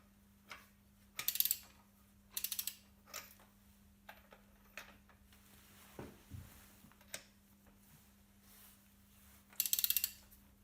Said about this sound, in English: Loosen the spark plugs and remove them.